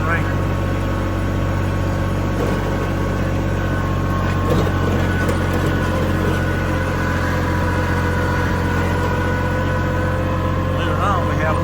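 A tractor engine runs steadily nearby on a farm with a trailer hitched, a continuous low idling rumble with no breaks, and talk is heard over it.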